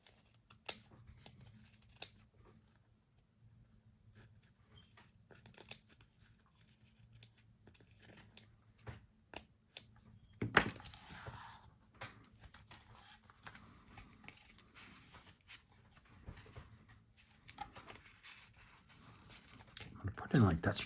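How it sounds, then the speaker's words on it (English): Scissors snip fabric for a paper-craft junk journal collage in a run of close, crisp cuts, with a quiet voice talking between them. "I'm going to trim this fabric."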